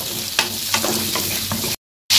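Talakitok fish frying in a pan, a steady close crackling sizzle with occasional sharp pops and spatters, briefly cutting out before the sizzle returns.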